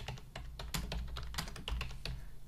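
Rapid keystrokes clatter on a computer keyboard, an uneven run of sharp, close clicks with short pauses while a name and comment are typed in; no one speaks.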